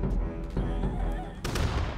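Cannon fire booms in Totally Accurate Battle Simulator, several heavy low blasts in quick succession with sharp broadband cracks, loud and close amid battle noise, with voices talking in the background.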